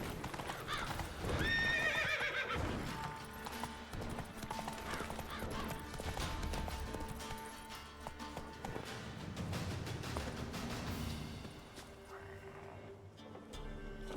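Roach, a horse in The Witcher 3, gallops with rapid rhythmic hoofbeats, and a neigh sounds near the start; the clip-clop stays steady and close over a faint game music bed.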